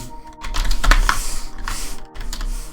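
Typing on a computer keyboard while entering Python code: quick, close bursts of key clicks with short pauses between groups.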